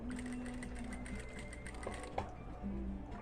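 A domestic sewing machine backstitching along a men's dress shirt collar gives a steady mechanical whir with fine rapid stitching ticks, close and continuous, pausing briefly before running again.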